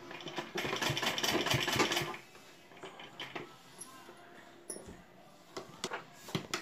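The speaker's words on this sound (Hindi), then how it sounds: "यहाँ पे अब हम सिलाई लगा देंगे" A sewing machine runs a quick burst of stitching on a collar neck fitted with potli buttons, then stops, leaving faint handling clicks and small rustles in a quiet room.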